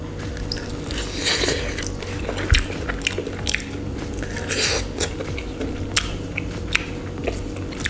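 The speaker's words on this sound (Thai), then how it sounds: "ทีนี้จะลองมาชิมให้ดูสักชิ้นหนึ่งนะครับ" Crunchy bites and wet chewing on air-fried garlic chicken wings, close to the mic, with repeated crisp crunches and mouth sounds over several seconds and no talking.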